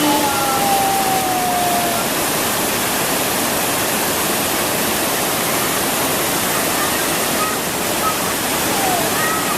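A waterfall roaring steadily, a loud, unbroken rush of falling water filling the whole soundscape, at Blang Kolam waterfall in North Aceh, Indonesia.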